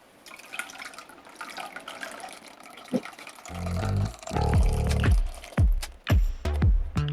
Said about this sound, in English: Add the lye solution slowly.